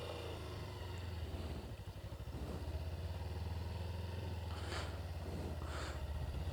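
A motorcycle idles and putters along at low speed during slow, tight circling practice, its steady engine drone continuous and fairly close, with a few brief high-pitched squeaks near the end and no talk.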